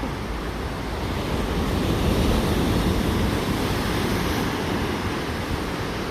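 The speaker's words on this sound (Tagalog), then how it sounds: "maingay man po ang karagatan pero parang tahimik ang lahat" Steady roar of ocean surf, a broad continuous wash of breaking waves with some wind buffeting, loud and close with no voices.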